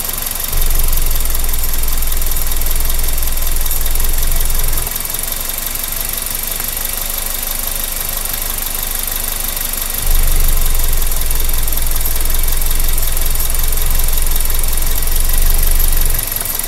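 A car engine idles with a steady low rumble and a faint knocking beat, the running note swelling louder in two stretches and easing back in between, with no one talking over it.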